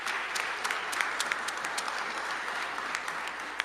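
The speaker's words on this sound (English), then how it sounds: "please give them a round of applause again" A crowd at a Washington DC housing announcement by Mayor Bowser applauds supporting agencies. Moderate, dense clapping runs throughout, with individual sharp claps standing out.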